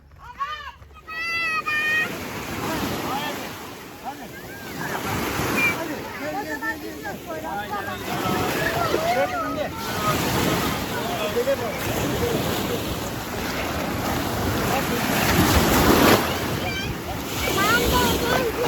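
Sea waves wash steadily onto a beach, a continuous rushing surf with wind buffeting the microphone, while children and an adult talk over it throughout.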